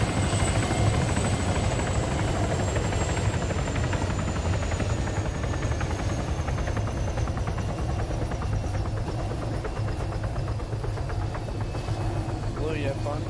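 A military helicopter sits after touchdown while its engines spool down, producing a steady turbine whine and rotor drone at moderate distance, with a slowly falling high-pitched tone.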